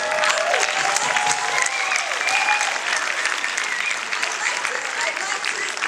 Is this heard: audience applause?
yes